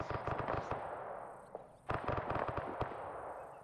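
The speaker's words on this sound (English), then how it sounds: "we are getting airstrikes on these enemy positions" Airstrikes pounding enemy positions in the ARMA 3 military game: clustered bursts of sharp cracks and thuds, fairly distant, with a brief lull in the middle before another dense burst.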